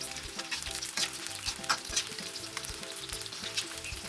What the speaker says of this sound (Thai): ทอดจนไก่กรอบเหลืองแล้วตัดขึ้นค่ะ